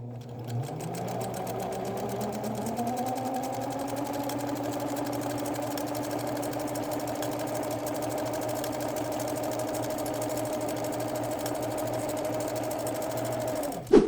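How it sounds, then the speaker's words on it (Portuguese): A sewing machine fitted with an overlock-style presser foot stitches fabric in a steady, close, continuous whir that runs unbroken for about fourteen seconds, with no talking. "fazer alguns pontos iniciais aqui e já começar a costurar"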